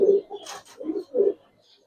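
Giribaz racer fancy pigeons at a farm, cooing in a few short, soft, throaty bursts close by, with a faint chirp between them.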